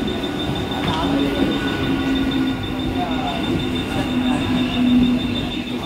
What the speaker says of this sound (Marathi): अंबरनाथ जाने वाली तेज लोकल थोड़े ही समय में प्लेटफॉर्म क्रमांक 3 पर आ रही है।